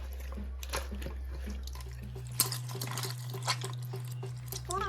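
Water poured over ripe mango peels in a kitchen vessel while making mango pulissery with coconut and curd, a steady close splashing trickle with a few brief clinks and drips, no voices.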